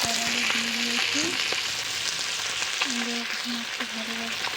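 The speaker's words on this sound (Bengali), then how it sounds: "তারপরে তেল গরম করে মাছগুলোকে ভেজে নেব" Pieces of fish marinated in turmeric and salt frying in hot oil in a pan, a dense, steady crackling sizzle up close, with a faint tonal hum running in the background.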